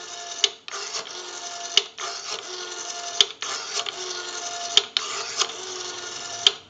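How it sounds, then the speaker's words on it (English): A payphone's rotary dial whirs back to rest several times in succession, each return a smooth mechanical buzz that ends in a sharp click, close and evenly spaced. "We have a nice smooth return on our rotary now."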